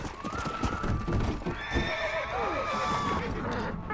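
Horse in Red Dead Redemption Undead Nightmare giving a loud whinny and snorts, with hoof clip-clops and rustling noise underneath, close and busy throughout.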